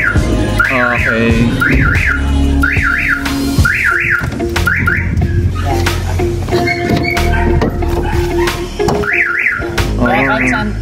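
A newly installed car alarm on a Nissan NV350 van cycles through loud warbling siren tones in repeated bursts, with someone speaking briefly between the wails.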